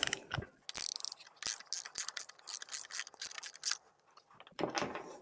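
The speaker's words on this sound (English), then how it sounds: "ratchet wrench and 24mm top" A ratchet wrench clicks in quick, uneven bursts while loosening the top cap of a Rockshox Reba bicycle suspension fork. The sound is close and quiet, with short pauses between strokes and a longer scraping burst at the end.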